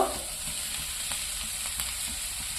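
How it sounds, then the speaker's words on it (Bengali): Onion, green chili, capsicum and tomato frying in hot oil, a steady close crackling sizzle with faint stirring scrapes throughout. "এইবার আমি তেলের মধ্যে নাড়াচাড়া করে ভেজে নিতে থাকি"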